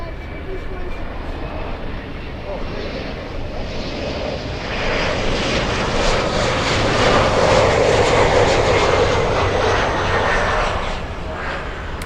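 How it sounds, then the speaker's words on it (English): An Embraer E175 jet airliner at Miami International rumbles past, its engine roar swelling to a broad peak midway and then easing slightly, steady and fairly loud with no speech on top. "All right, E175."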